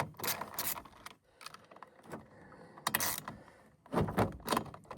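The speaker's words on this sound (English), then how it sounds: "Using Torx bit T25, we're just going to remove the starter assembly." Handheld work on a Stihl line trimmer's starter assembly with a Torx T25 bit, heard as close bursts of metallic clicking, rattling and scraping separated by short pauses, outdoors at a snowy campsite.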